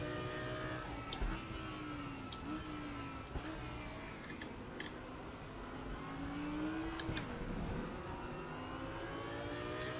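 A race car engine in the RaceRoom racing game revs and accelerates through repeated gear changes, its pitch rising and falling, steady and fairly quiet.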